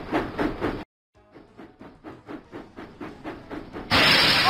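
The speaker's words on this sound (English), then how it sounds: "Full steam ahead!" Steam engine James from a Thomas & Friends video game puffs along in a rhythmic series of chuffs that build after a brief silence, then a loud burst of hissing steam at the end.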